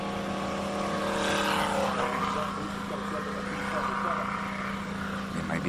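A classic race car at a hillclimb event drives past, its engine a loud continuous roar that rises and falls in pitch as it passes, with a voice talking over it.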